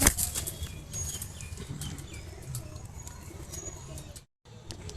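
A pigeon released by hand beats its wings in a flurry of close flapping, with a few soft coos and chirps, before a brief gap and some quieter fluttering.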